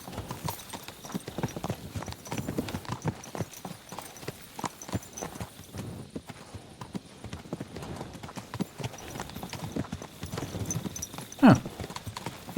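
Horse hooves clip-clop at a steady walking rhythm in the video game Kingdom Come: Deliverance II, continuous and moderately loud, with a brief sharper knock near the end.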